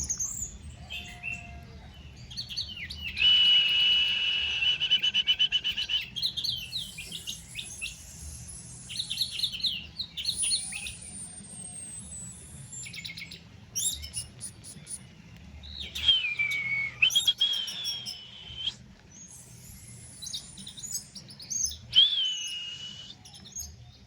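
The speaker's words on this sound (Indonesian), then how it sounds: "Kalau burung dibiasakan bunyi di bawah seperti ini." An orange-headed thrush sings varied, clear whistled phrases and chirps close by, with pauses between bursts over a low background hum.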